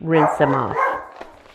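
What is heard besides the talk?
dog barking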